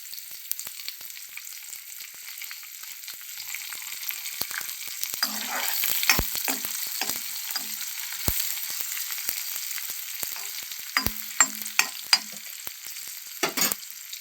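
Curry leaves and dried and green chillies sizzle in hot oil in a frying pan while upma is made, a steady close frying hiss with sharp crackles and pops breaking through, alone without talk.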